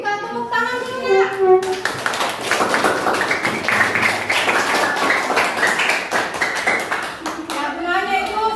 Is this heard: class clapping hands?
yes